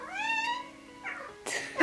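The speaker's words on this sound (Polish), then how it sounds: "Sorry, mój kot." A pet cat meows indoors: one long, rising-and-falling meow, then a couple of short, sharper mews close to the microphone.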